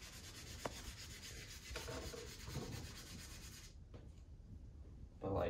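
Sandpaper is rubbed by hand over the painted fender of a 1965 Ford, giving soft close scratchy strokes in short back-and-forth passes that stop briefly near the end.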